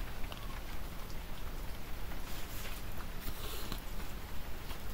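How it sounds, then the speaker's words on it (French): Steady rain falling outdoors, a soft continuous patter of drops on surfaces, fairly quiet and even with no voices over it. "aujourd'hui il pleut, comme vous devez l'entendre"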